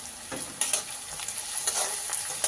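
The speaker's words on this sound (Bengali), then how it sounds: "পেঁয়াজ, রসুন, আদা ভালো করে ফোড়নে দিচ্ছি।" Chopped onion, garlic and ginger sizzle in hot oil while a spoon stirs, and sharp scrapes break through the fairly quiet crackle.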